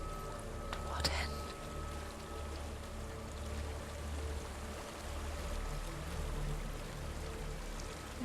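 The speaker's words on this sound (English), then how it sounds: "There's a waterfall." A waterfall in the video game Hellblade: Senua's Sacrifice, a constant broad rushing roar of falling water throughout, with soft whispering voices beneath it.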